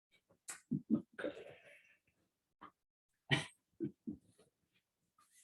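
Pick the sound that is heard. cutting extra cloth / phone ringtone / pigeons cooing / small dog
small dog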